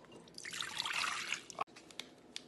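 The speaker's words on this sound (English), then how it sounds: "So Raylan, you want to help me dump in the water?" Cold water is poured into a container to prepare gelatin for bird seed ornaments, giving a brief soft gushing trickle that stops with a small clunk, then a few faint drips.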